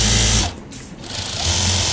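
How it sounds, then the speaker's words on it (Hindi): An industrial sewing machine runs a flatlock seam with chain stitch, giving a close, steady mechanical whir that dips briefly and then picks back up to full speed. "ये आप देख सकते हैं चेन स्टिच के साथ ये फ्लैट लॉक की सिलाई लगा रहा है"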